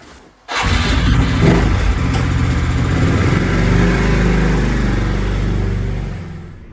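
An AJP PR7 motorcycle engine fitted with an upgraded, resealed air filter, starting abruptly and then running loud and close for several seconds with a steady rumble and rising revs before easing off, no talk.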